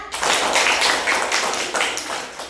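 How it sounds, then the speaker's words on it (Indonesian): A classroom of children applauds a classmate who presented their work at the front, a dense burst of quick clapping from many hands that swells and fades in waves, fairly close and loud. "Tepuk tangan yang semangat"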